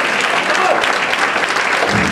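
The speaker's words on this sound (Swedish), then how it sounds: "En stor applåd!" Audience applause at a band's concert in Falun, Sweden, a dense, steady burst of clapping filling the short moment at full volume.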